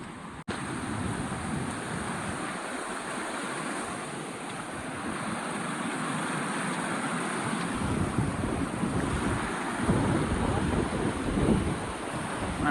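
Strong wind roars steadily, buffeting the microphone with low rumbling gusts, with a surf-like wash underneath.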